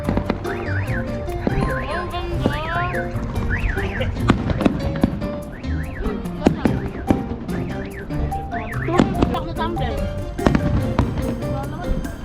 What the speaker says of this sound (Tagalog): watching fireworks before we go home